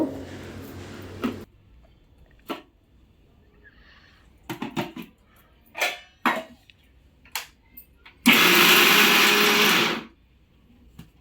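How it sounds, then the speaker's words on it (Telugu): A kitchen mixer grinder pulses briefly on boiled peas, with short bursts and clattering jar knocks before one loud sustained whir of about two seconds that then cuts off. "ఉడకబెట్టుకున్న బఠానీ లైట్గా మిక్సీ పట్టుకుంటున్నా"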